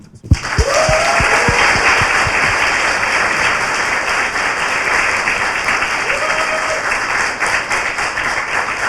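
Sustained applause from a crowd, dense clapping that starts with a few sharp claps and continues steadily throughout.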